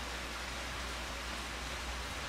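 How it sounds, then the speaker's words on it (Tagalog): Steady rain falls outside a house, a dense and even hiss that runs unbroken from start to finish with no voices. "Lord, pahunungan na ning ulan para makanaog na ko sa balay"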